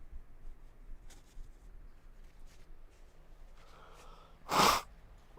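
A single loud sneeze, preceded by a short inhaling breath, stands out against a quiet background.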